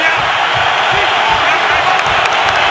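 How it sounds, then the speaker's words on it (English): Dense roar of a football stadium crowd at a Cowboys vs. Giants game in 2016, cheering loudly and continuously after a sack, with scattered whoops rising out of the steady wash. "this crowd now gets into it"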